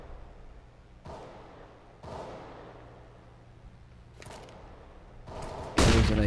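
Gunfire from AK rifles in a Counter-Strike match on the de_mirage map, with several sharp bursts at irregular intervals over steady game ambience and a louder, denser volley near the end.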